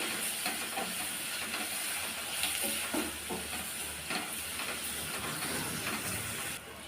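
Onions sauté with rock salt and turmeric in a hot pan for an egg curry, giving a steady, loud sizzle and hiss with occasional stirring scrapes throughout, no voices.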